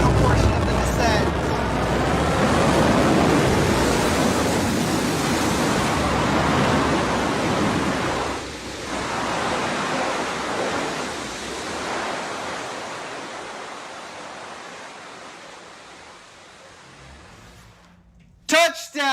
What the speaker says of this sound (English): the BE-3 engine relights for the final portion of the descent